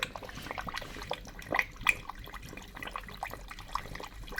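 A Boxtech aquarium filter pumps water in a steady, splashing churn, with a few louder gurgles and drips over the continuous flow.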